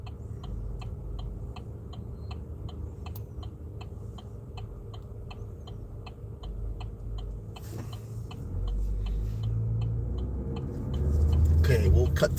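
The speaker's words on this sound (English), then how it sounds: "Somebody needs a muffler. They need to get their muffler fixed up there." A loud car with a faulty muffler passes by on the street. Its rumble builds toward the end over steady ticking and background traffic.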